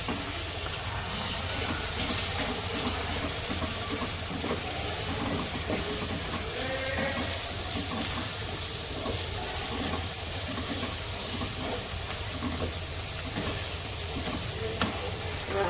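Red chili powder sizzles in hot oil for a roasted eggplant dish, a loud, continuous, dense crackling hiss that holds steady throughout.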